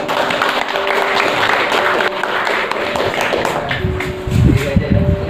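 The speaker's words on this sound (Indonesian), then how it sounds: "Beri tepuk tangan." Audience applause at an Indonesian motivational seminar, a dense wash of clapping from a crowd that swells near the end, with voices and some steady tonal background underneath.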